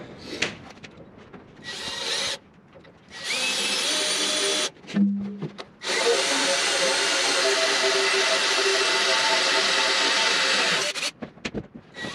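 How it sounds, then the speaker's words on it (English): A power drill with a small bit whirs in several bursts while boring a pilot hole in a Kubota L-Series tractor bucket, the longest running steadily for about five seconds, with brief pauses between. "we are going to drill a small pilot hole first, just with a smaller drill bit"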